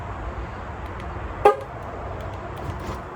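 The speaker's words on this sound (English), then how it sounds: "Why did it honk at me?" Porsche 911 car horn, a single short honk in a quiet garage, brief and moderately loud over faint background hum.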